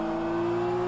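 An LMP prototype race car roars past in rFactor 2 at the Bahrain circuit, a brief loud sustained engine drone with a steady high whine.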